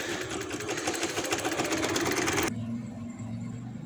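An electric sewing machine stitches fabric with lace trim for a round neckline, a rapid, even mechanical chatter close by that stops abruptly partway through, leaving a quiet hum.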